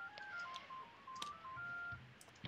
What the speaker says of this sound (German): Das ist das Telefon.